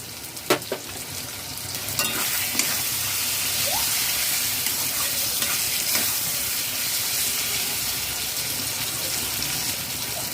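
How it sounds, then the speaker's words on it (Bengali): Pointed gourd and prawns stir-fried on a high flame, a continuous loud sizzle with a few sharp scrapes and knocks of the spatula against the pan near the start; no talking. "আঁচ হাই ফ্লেমে দিয়ে নাড়াচাড়া করে নেব"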